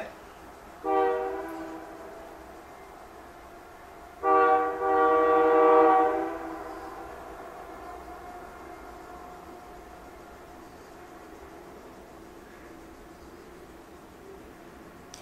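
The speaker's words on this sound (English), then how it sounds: "Right now we're having a train interruption." A train passing nearby sounds its horn twice, a short blast followed by a longer sustained one, then a low steady rumble lingers in the background.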